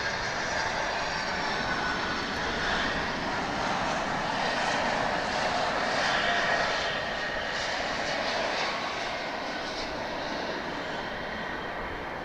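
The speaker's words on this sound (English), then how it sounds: "stand by for Queen of the Skies." A Boeing 747 on the runway at DFW Airport at night, heard as a steady, loud jet engine roar that swells slightly mid-way and holds throughout with no talk.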